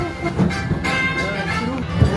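Animal Kingdom train ride at Disney World rolling behind the scenes, a steady low rumble and rail noise running throughout with voices chatting over it.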